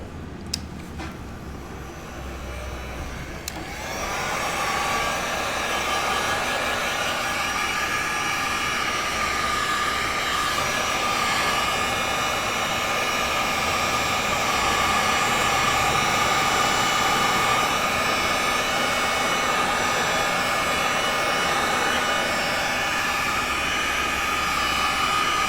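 A hair dryer runs steadily, drying watercolor paint on Arches paper; after a quiet start it switches on and holds a loud, even whirring roar for the rest of the stretch, with no talking.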